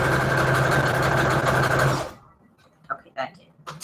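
A sewing machine stitches paper embellishments for a junk journal, running with a steady, loud whirring hum for about two seconds and then stopping abruptly, after which a few soft handling noises follow.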